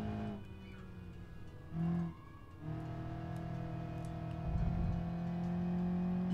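A street-tuned Ibishu 200 BX in a BeamNG racing game drones steadily, its engine note shifting pitch as it revs through gears on a hot lap, with a brief louder burst midway.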